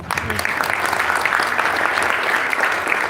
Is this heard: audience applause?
yes